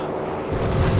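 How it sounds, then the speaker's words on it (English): Carpet bombing explosions in the Company of Heroes strategy game: a dense, continuous rumble of blasts, loud and close, building and thickening toward the end with no talk over it. "We got the carpet bomber on the center."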